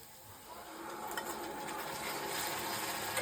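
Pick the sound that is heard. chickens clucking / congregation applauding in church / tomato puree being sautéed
tomato puree being sautéed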